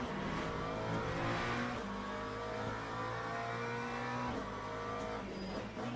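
Le Mans Ultimate race car running alongside another, a steady loud engine drone with gear-change dips in pitch and faint tyre noise, no talk.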